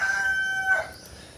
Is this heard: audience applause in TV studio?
no